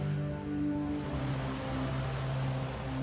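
A Twin Otter propeller seaplane flies by with a steady, loud engine drone and a constant low hum that holds evenly through the whole stretch, with no voices.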